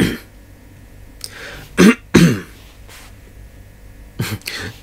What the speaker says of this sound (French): j'ai envie de m'éclaircir la gorge